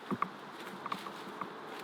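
A bee flies around close by outdoors in Seine-Saint-Denis, giving a faint, steady buzzing hum with a few brief louder passes and no talking.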